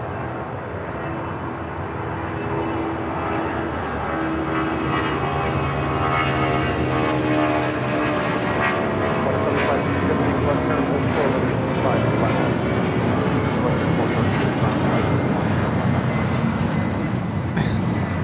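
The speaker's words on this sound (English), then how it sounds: "This is Delta Airlines 631 taking off to Mexico City on a 757" A Delta Airlines Boeing 757-200 jet takes off from the runway, a loud sustained engine roar that holds steady and swells slightly for the whole stretch, rumbling broadly at close range.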